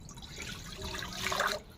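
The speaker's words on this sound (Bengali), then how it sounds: "কড়ায় জল দিয়ে দেব" Water is poured into a wok set on a lit stove, a short close splashing and trickling rush that swells and then cuts off, with no talk over it.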